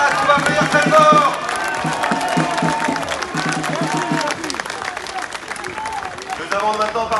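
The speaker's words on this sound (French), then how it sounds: "Un grand merci avec Carlo Alberto Brusa, qu'on va applaudir très fort." A crowd at an outdoor political rally bursts into applause and cheering, dense clapping at first that thins out, with a loud voice calling over the noise and shouts scattered through it.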